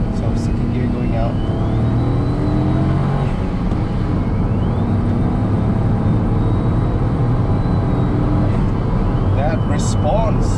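A Honda S660 with a 660cc mid-mounted engine pulls hard in second gear, giving a steady, loud roar of engine and road noise from inside the car with someone talking over it.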